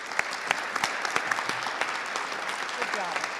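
An audience at a Senate post-election analysis panel gives a round of applause: dense, steady clapping from a crowd with some sharper individual claps standing out, lasting throughout.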